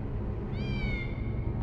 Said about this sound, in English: you can hear that cat meowing the whole time.